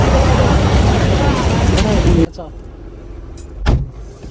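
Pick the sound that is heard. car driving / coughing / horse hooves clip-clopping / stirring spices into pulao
car driving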